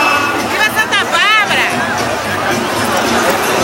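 A festival crowd of about 3,000 people in Pelourinho, Salvador, during the celebration of Saint Barbara–Iansã: dense, loud babble of many voices with shouts and a rising whistle-like call, all close and continuous.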